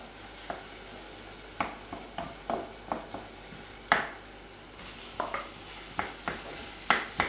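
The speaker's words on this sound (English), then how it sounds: "Now we brown this mince for a couple of minutes until it's nice and brown" Mince browning in a hot pan with salt, basil and pepper, sizzling steadily while a utensil stirs and scrapes it in irregular close taps, with no talking.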